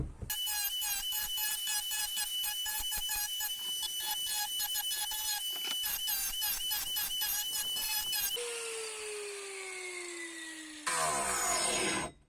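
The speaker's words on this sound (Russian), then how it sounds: "Берем, друзья, болгарку. И вот такой вот диск." An angle grinder with a coarse wood disc whines at a steady high pitch, smoothing wooden edges with rapid rasping bursts; the motor then winds down in a falling tone before revving up again.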